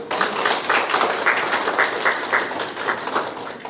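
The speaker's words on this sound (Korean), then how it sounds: "박수 한번 쳐주시겠어요?" An audience at a Daejeon printing culture industry development forum claps in sustained, steady applause that fills the room, dense and fairly loud throughout.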